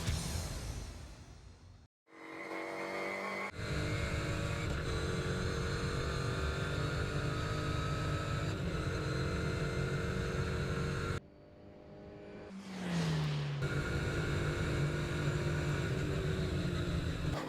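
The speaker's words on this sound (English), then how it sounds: "maybe just enjoy the noise of a one-make racer from on board" On-board engine noise from a MINI Challenge one-make race car on track, a loud steady drone with brief lifts around gear changes and a sudden drop near the middle before the revs climb again.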